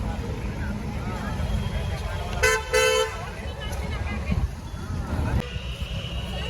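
Dense road traffic with a line of buses, vehicle horns honking in short bursts over a steady low rumble of engines, close and fairly loud, with voices in the background.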